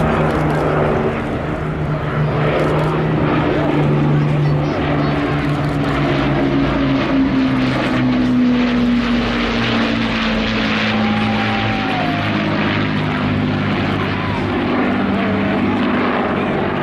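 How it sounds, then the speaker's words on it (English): Loud, steady drone of Merlin-engined propeller aircraft passing overhead at an air festival, a deep throbbing roar that swells and lingers, with faint crowd noise beneath. "Sound of those Merlin engines coming in from your right over the tree line."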